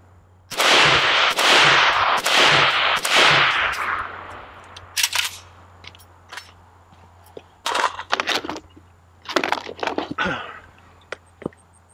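A Century Arms AK63D, an AK-47 variant rifle, fires rapid continuous bursts outdoors during a 500-round torture test, a long loud string at first, then shorter separate bursts and single shots with echo between.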